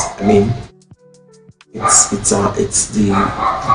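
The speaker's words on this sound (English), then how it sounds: "It's a very small puppy, and it's loud like this." Loud yapping barks of a very small puppy, a few sharp bursts close by, heard between stretches of someone talking.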